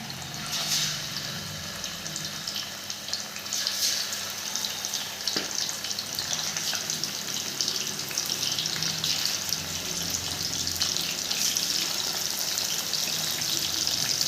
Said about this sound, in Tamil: மீன் குழம்பு பண்ணுறதுக்கு மீனை ஃப்ரை பண்ணி எடுக்க ஒரு கடாயில் எண்ணெய் ஊற்றி வச்சுருக்கேன்.